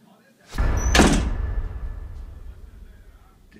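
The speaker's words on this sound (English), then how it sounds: "The door repeatedly slammed shut on its own, seemingly with no cause." A door slams shut on its own indoors with a loud, close, heavy bang followed by a brief rattle, then a long fading reverberant tail in a quiet room.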